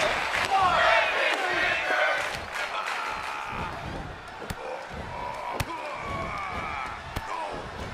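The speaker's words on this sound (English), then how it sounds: "The sound of this crowd is deafening, and he's asking for more." A wrestling arena crowd roars and chants loudly during a championship match, with sharp slams from the ring cutting through, under excited commentary.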